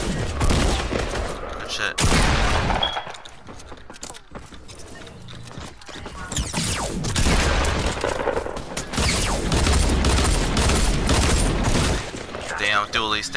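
Gunfire from a semi-automatic weapon in Fortnite crackles in repeated loud bursts across the clip. Other game sounds are mixed in, and a player speaks briefly.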